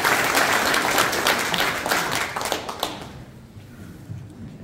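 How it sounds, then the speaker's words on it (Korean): Applause from the audience at a Pocheon city members' assembly welcoming the mayor, a burst of clapping that fades out after about three seconds into quiet room tone. "큰 박수로 환영해 주시겠습니다"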